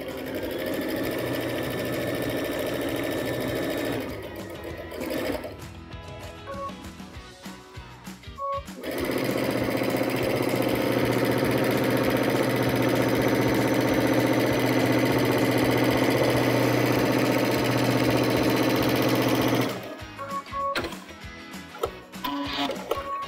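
A Baby Lock sewing machine with Digital Dual Feed stitches a straight row between pieced quilt blocks, humming loud and steady in long runs broken by brief quieter pauses with clicks and handling.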